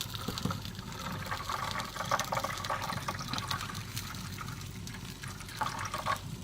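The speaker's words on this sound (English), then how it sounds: "Let's add just a little bit more water." Water being poured into a pot of Italian beef cooking on an offset smoker, a continuous splashing, gushing fill sound at moderate loudness without talk.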